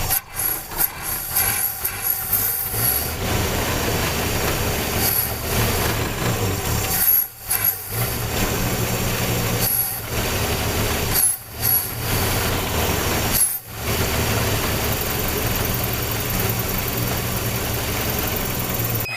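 A 1964 Chevy C-10 Stepside truck engine runs steadily on its own, a continuous rough rumble with a few brief dips where it nearly stumbles, close to the microphone, with no talking.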